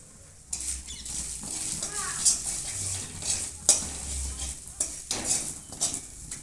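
Ground spices (chilli, coriander, cumin, garam masala powders) frying and being stirred in a pan for a potato kachori filling, with soft sizzling and repeated scraping clinks of a spoon against the metal, close and steady with no talk.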